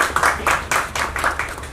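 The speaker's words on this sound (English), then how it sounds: "A big round of applause." Audience applause at an event with a Grammy-winning composer, a short run of distinct, fairly close claps in an uneven rhythm, with little else around it.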